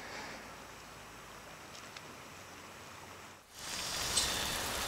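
Steady rain pattering on surfaces during an evening hiking stop at Ritsem, a soft continuous hiss that swells louder toward the end, with no talking.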